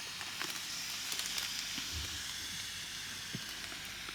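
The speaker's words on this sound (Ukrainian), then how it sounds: "Та відбувається реакція, шипить, кип'ятиться вода." Steady fizzing hiss with faint crackles as a chemical heating pack reacts and boils water, continuous and close.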